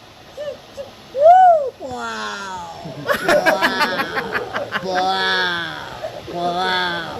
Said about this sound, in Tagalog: Ibang ibon din yan.